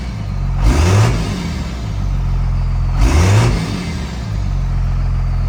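A heavily worn second-generation Cummins diesel in a pickup truck, very loud, idling with a deep clattering drone, revved twice in quick swells that rise and fall back to idle.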